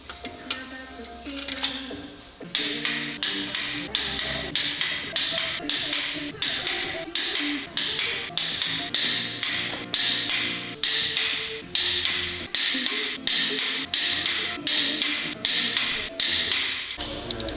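Wrench working old, greased bolts on a Nissan X-Trail engine with a misfire, giving rapid repeated metallic clicks and taps in steady bursts throughout, close and fairly loud, after a quieter opening.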